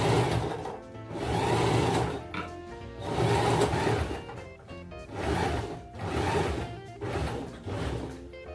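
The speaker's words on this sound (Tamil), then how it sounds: "இப்போ நான் எப்படி ஸ்டிச் பண்ணுறதுன்னு காட்டுறேன்" Sewing machine stitching a blouse sleeve with thick embroidery thread, running in a series of steady whirring bursts separated by short pauses, close and moderately loud.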